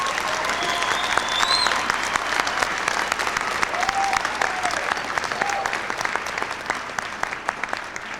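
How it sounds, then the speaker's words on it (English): Sustained applause from a large crowd at a graduation ceremony, steady and full throughout, with a few faint voices and whoops rising over the clapping. "Would you please clap for these wonderful graduates in interior design?"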